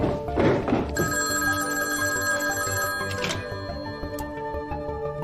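An old-fashioned telephone bell rings in a continuous metallic trill that starts after a soft thump, loud and close, with a faint background murmur in a 1920s Shanghai setting.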